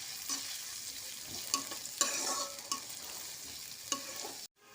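Green chilies fry in a pan over steady sizzling while a spatula stirs and knocks against the metal every second or so, close and soft, ending in a brief silence.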